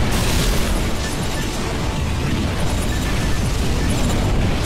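Massive destruction of Giga Base, a giant armored fortress in Armored Core For Answer, rendered as a continuous, loud, dense rumble of blasts and roaring debris with no clear breaks.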